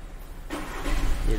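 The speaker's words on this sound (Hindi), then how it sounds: "देखिए अब हम गाड़ी चालू करते हैं" A Volkswagen Taigun SUV with a starting problem cranks and fires up, the engine catching about halfway through and settling into a steady low rumble.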